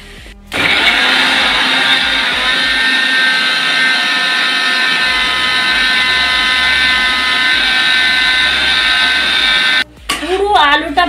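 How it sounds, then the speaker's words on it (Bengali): A mixer grinder whirs loud and close as it grinds poppy seeds into a paste, a steady high-pitched motor whine running for about nine seconds before it cuts off, followed by brief talking. "এবারে মিক্সার গ্রাইন্ডারের মধ্যে না আমি একটু পেস্ট করে নেব"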